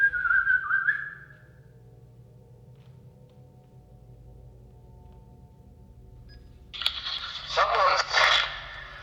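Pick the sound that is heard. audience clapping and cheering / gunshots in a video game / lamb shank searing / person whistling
person whistling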